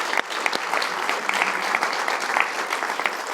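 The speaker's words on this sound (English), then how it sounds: "let's join together again in a warm applause for all of them" An event audience at a healthy-cities dialogue gives steady, warm applause for speakers and panelists, a dense wash of many clapping hands throughout.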